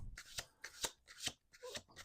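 Playing cards are shuffled by hand in repeated riffles, about five crisp, fluttering bursts spaced roughly half a second apart, close and fairly quiet with no talk.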